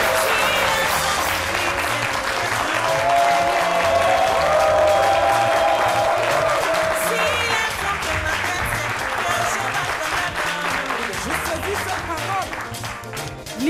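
Sustained applause from a TV talk-show studio audience welcoming a guest, dense and steady throughout with music and a host's voice over it, thinning slightly toward the end.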